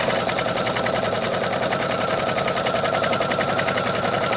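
A sewing machine runs steadily around a circle with a circular attachment, its needle hammering in a fast, even, close-up mechanical rattle that continues without a break.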